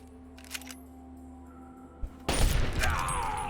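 Gunfire in Fallout 3/New Vegas: a few faint clicks and a dull thud lead into one loud, sharp shot and a burst of echoing fire that fades out under a steady hum.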